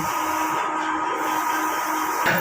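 An inkjet printer runs a print head cleaning cycle, giving a steady mechanical whir and hiss that ends in a short clunk.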